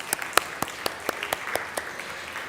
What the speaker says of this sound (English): A round of applause for him in absentia.